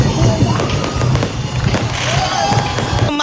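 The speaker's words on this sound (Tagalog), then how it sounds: "Kasunod ng anunsyo, nagliwanag ang kalangitan sa fireworks display." A fireworks display lights the sky over Vigan City after a celebratory announcement, with irregular bangs, thumps and crackles mixed with crowd voices and some talking nearby.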